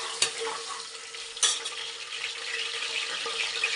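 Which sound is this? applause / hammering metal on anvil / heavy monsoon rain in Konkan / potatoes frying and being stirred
potatoes frying and being stirred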